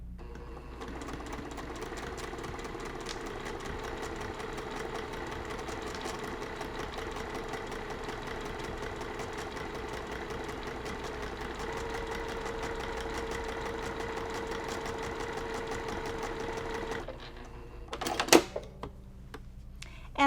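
A sewing machine runs a steady, continuous stitch at about 2.0 stitch length along the far side of a brown fabric strip on a cross-stitch mug rug. The whirring carries on unbroken for about seventeen seconds, then stops with a few clicks and clunks.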